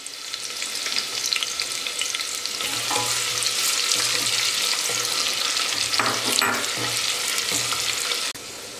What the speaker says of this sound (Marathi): कांदा आपण बारीक चिरून घेतलाय आणि कांदा 1-2 मिनिट आपल्याला होऊ द्यायचा आहे।